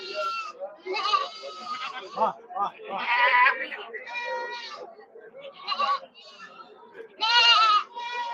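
Goats bleat at the Saturday goat market in Ettayapuram, with loud, close, repeated wavering cries coming one after another in quick bursts.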